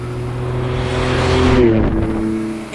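A Totem Super GT with a 670 hp engine, a loud close engine note rising and swelling as it revs or passes, then fading slightly at the end, with no talk.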